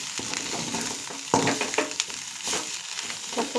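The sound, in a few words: egg and amaranth leaves frying in a pan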